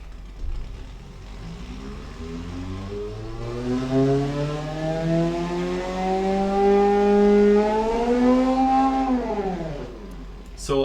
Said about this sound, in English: You can kind of hear VTEC in there actually.